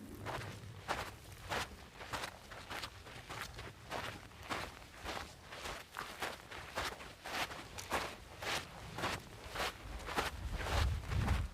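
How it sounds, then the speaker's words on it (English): Steady footsteps on a Pacific Crest Trail hiking path, a regular crunching stride repeating about twice a second, close and continuous, with faint rustling and no talk. "Let's see how the footsteps sound."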